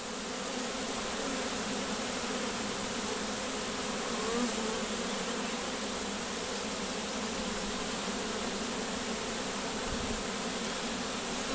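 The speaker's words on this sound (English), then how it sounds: "All the other bees vibrate" A steady, dense buzzing of many bees inside a hive hums evenly throughout, close and constant, with no voices.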